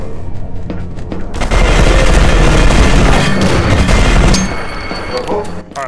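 Grenade explosions in the shooter E.Y.E. Divine Cybermancy, loud dense roaring blasts merging into several seconds of heavy rumble with crackling, fading toward the end.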